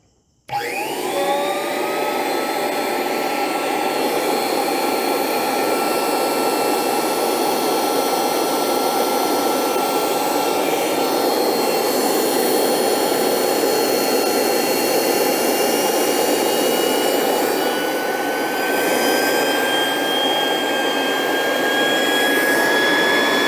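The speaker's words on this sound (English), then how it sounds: "Let's see if we can hear how this thing sounds. It's a high RPM motor." A Dumore toolpost grinder's high-RPM motor spins up from silence and then holds a steady, loud, whining run for over twenty seconds. High tones slide upward as it settles and smooths out.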